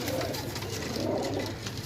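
A pigeon coos in soft repeated rolling calls, close and steady, over a constant background hum, part of a flock of pigeons offered for sale.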